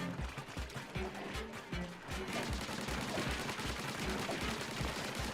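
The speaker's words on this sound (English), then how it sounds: "handful of explosions we're getting already" Rapid bursts of explosions and gunfire-like blasts from the video game Splatoon Raiders, dense and loud, layered over game music with a steady beat, continuing throughout.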